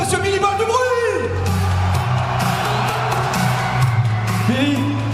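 An arena crowd at a SuperEnduro round in Liévin, France whoops, shouts and cheers for Billy Bolt during the opening ceremony, a loud sustained roar with an announcer's voice over it.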